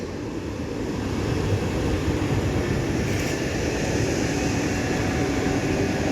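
A PESA Elf electric multiple unit from Inowrocław rolls past, a loud, steady broadband rumble that holds evenly throughout with no voices.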